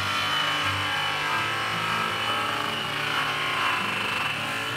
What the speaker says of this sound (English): He's gonna use Zephyr's fast cut buffing wheel with the triple bar rouge.